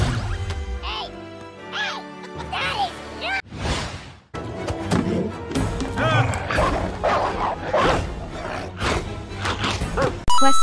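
A dog barks in a Super Mario Bros game scene, several yipping barks scattered among crashes, whooshes and music, with voices talking throughout.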